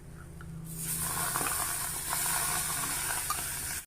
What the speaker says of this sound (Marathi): आता यामध्ये आपण हे जे शिजवलेलं डाळीचं वरण आहे हे टाकून घ्यायचंय.